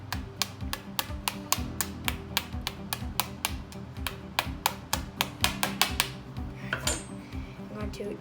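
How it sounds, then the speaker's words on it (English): A spoon tapping a plastic bath bomb mold from a DIY kit, a fast, steady series of sharp, bright clicks close to the microphone, continuing for several seconds with slight variations in force. "I'm gonna tap it with a spoon"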